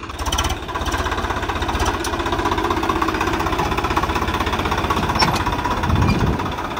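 A Swaraj 855 FE tractor engine rumbles and chugs steadily and close by for the whole stretch, with a rough, knocking mechanical drone and no talking.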